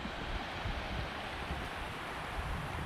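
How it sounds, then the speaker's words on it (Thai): Water flows over a small weir in rural northeast Thailand after heavy rain, making a steady, dense rushing wash that stays even and continuous with no voices. "นี่ครับน้ำไหลครับ อยู่ฝาย"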